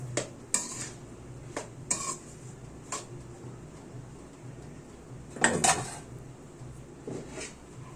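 Flat beans and small fish being stirred in oil in a pan, with a utensil clinking and scraping against the pan in scattered knocks and a steady low sizzle underneath.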